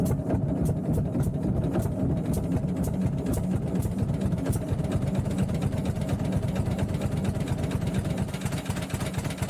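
An unstyled John Deere A tractor engine runs steadily throughout with a low, rhythmic throb and faint regular ticks, close and continuous.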